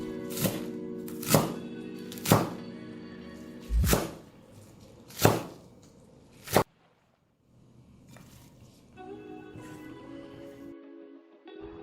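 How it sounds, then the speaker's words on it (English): A knife chops through 50 grams of green dragon chives into 1-inch lengths on a cutting board, six sharp, evenly spaced thuds, close and clear, then quieter rustling as the pieces are gathered. "we have 50 grams of green dragon chives that I'm going to cut into 1-inch lengths"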